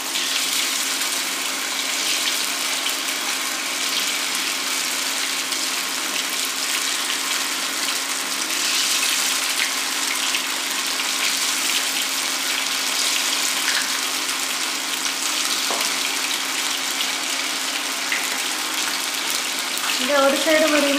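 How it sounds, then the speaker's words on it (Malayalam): Soya chunks deep-frying in hot oil in a pan give a steady, even sizzling hiss that holds at a constant level for the whole stretch. "ഇത് ഏകദേശം ഒരു ബ്രൗൺ കളർ ആവുന്ന വരെ നമുക്ക് വറുത്തെടുക്കണം."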